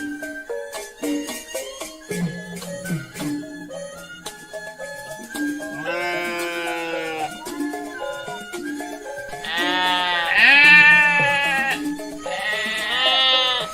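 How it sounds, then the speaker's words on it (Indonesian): Goats bleat at a livestock market where goats and cattle are sold, several wavering, drawn-out cries overlapping in a rising chorus, loud and close, with other animal calls and bustle mixed in. "kambing sama sapinya besar-besar ya"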